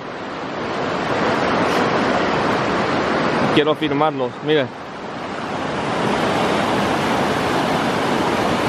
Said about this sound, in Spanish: Vamos a bajar esta cascada aquí.